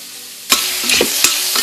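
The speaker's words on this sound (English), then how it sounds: "Just gotta fry that chili and garlic together." Meat fries with chili and garlic in a pan, a loud close sizzle broken by sharp scraping stirs and clacks of a utensil against the pan, with no talking.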